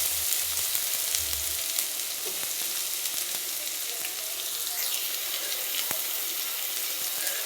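Crushed ginger, garlic, sliced onion, capsicum and green chilli fry in a pan for a paneer gobi Manchurian, with a continuous hissing sizzle and occasional utensil ticks throughout, close and even.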